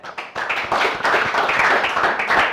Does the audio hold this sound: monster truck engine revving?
no